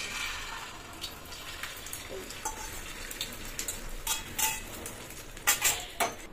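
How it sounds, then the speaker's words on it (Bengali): An egg for a vegetable omelette fries in hot oil with a soft, steady sizzle, broken by occasional crackles and light clinks of a utensil against the pan. No one speaks. "তেলটা গরম হয়ে গেছে, এবার দেবো ডিমটা এর মধ্যে"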